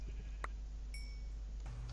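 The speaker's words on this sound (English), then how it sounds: "there's a crap ton of sheep here, like 60" Minecraft sheep bleat in a game world crowded with about sixty sheep, a couple of short, quiet baas over a low steady hum, with small game blips in between.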